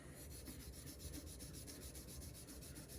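Green Scotch-Brite pad rubbed back and forth on pinball machine metal, a steady dry rasping scrub that runs continuously and close, with no talking.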